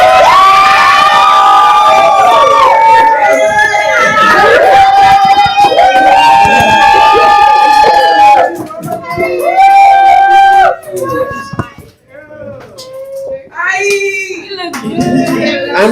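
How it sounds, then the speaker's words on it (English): A studio audience rises for a guest and breaks into a standing ovation, loud and close, with clapping, cheering and children's shouts. The noise swells, then drops off unevenly into scattered whoops and calls. "Please, on your feet while you are clapping. Thank you. Standing ovation."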